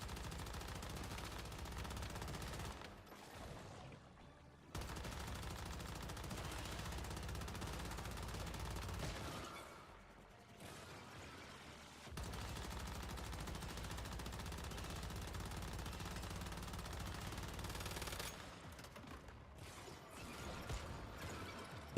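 Rapid bursts of gunfire from a fast gunner weapon in the video game Once Human, loud sustained automatic volleys broken by two short pauses, with no talk.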